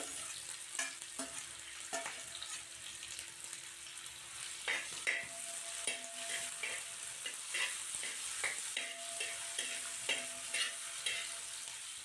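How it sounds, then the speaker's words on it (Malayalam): Onion, ginger and green chili sauté in coconut oil for a roasted-coconut chicken curry with a faint steady sizzle. Light stirring scrapes recur throughout, fairly quiet and with no voices. "ഇനി ഇതിലേക്ക് നമുക്ക് സവാളയും ഇഞ്ചിയും പച്ചമുളകും ചേർത്ത് കൊടുത്ത് നന്നായി വഴറ്റിയെടുക്കാം."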